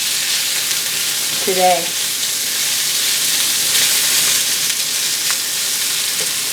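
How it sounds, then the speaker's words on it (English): Vegetables fry in a pan of olive oil and avocado oil with a steady, loud sizzle and hiss throughout, while someone speaks briefly over it. "I'm going to fry this up a little bit"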